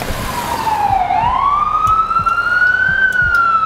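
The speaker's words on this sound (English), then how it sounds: "the sirens." Emergency vehicle siren wails through New York City streets, a loud rising and falling tone that dips then climbs again over traffic rumble, close and continuous with no voices.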